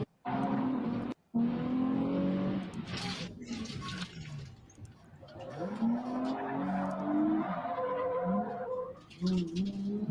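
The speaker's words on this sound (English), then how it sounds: "Warming up the tires a little bit." In-car sound from a race car warming up its tires, the engine rising and falling in pitch through repeated revs and gear changes, loud and close, with a brief drop near the start.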